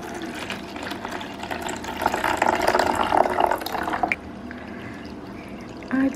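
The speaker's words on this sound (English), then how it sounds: "water going in." Water poured into a self-heating instant hot pot with real meat, a continuous close filling splash that swells in the middle and then stops abruptly, followed by quieter room sound.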